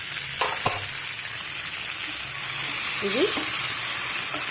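Tomatoes frying in oil in a pan for a tomato and toor dal chutney, a soft steady sizzle with a few faint stirring clinks and a brief word spoken over it.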